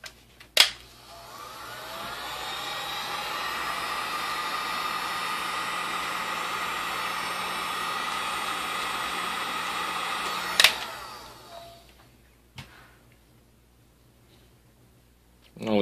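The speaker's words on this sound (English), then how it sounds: "But a hair dryer will work just fine." A hair dryer, used in place of a heat gun to soften motorcycle headlight parts, blows steadily for about ten seconds, loud and close, starting and stopping with sharp clicks.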